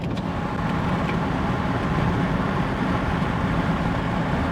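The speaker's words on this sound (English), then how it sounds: "we'll see how much wind noise is getting inside the cab now" Steady broadband wind roar with engine and road rumble inside the cab of a 105 Series Land Cruiser cruising at 100 km/h with the windows slightly cracked, loud and constant throughout, no voices.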